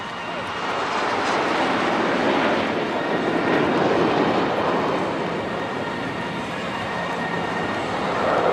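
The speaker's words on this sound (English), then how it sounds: "You will see the aircraft forming the shape of the English letter A." Indian Air Force aircraft fly over an air show at Marina Beach in Chennai, a broad continuous jet roar that swells and holds throughout, loud and distant overhead, with faint crowd sound beneath.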